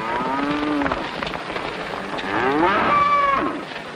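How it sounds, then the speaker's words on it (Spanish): Cattle lowing in a 1960 Spanish-language film: two long, loud moos, the second rising and drawn out, over a steady background hiss, with no voices. "Vaca"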